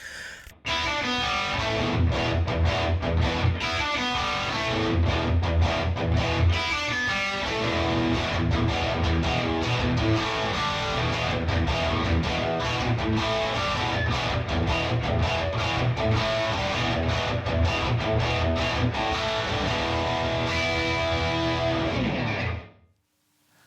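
Distorted electric guitar played through a Headrush Pedalboard dual-amp rig, a dense, loud, continuous riffing passage lasting about twenty seconds before cutting off abruptly.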